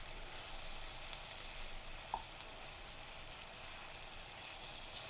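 Rabbit pieces fry with masala ingredients for a spicy rabbit curry, a steady soft sizzle throughout, broken once by a brief clink of a stirring utensil against the pan.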